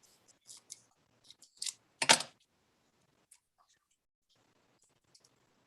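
Snips of scissors trimming paper corner pieces for a craft frame, a few short crisp cuts in a small burst, close and fairly quiet, with silence between.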